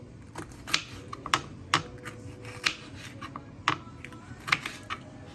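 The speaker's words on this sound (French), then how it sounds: "Je prends mon piment. Je commence à découper en petits morceaux." Knife chopping a chili pepper into small pieces on a cutting board, with about ten sharp, irregular taps spread through the clip, fairly quiet and close.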